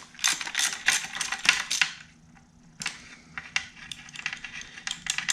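A hand ratchet loosening a bolt on the accumulator plate of a 200-4R automatic transmission: two quick runs of rapid metallic clicking, a short pause, then more uneven ratcheting, close up.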